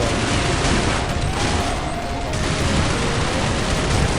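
Sustained machine gun fire in the Counter-Strike Online video game, a dense, loud, continuous burst of rapid shots lasting the whole stretch with no talk over it.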